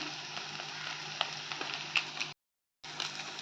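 Sweet potato for cutlets is stirred in a hot pan, a steady sizzling fry with small scraping and clicking accents, briefly cut to silence before resuming, no talk.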